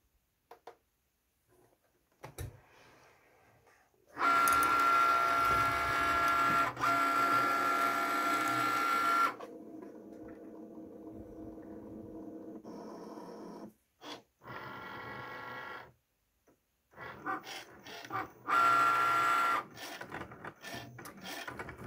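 A Cricut Maker cutting machine running an engraving job gives off intermittent mechanical whirring and buzzing bursts, some loud and sustained, separated by short quiet pauses, with no voices.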